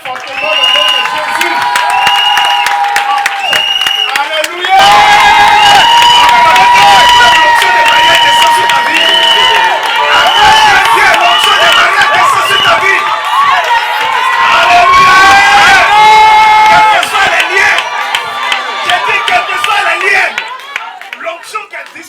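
A wedding congregation cheering and acclaiming loudly, with sustained shouts, whoops and scattered clapping swelling together for a long stretch, voices rising and falling in a dense, close crowd roar.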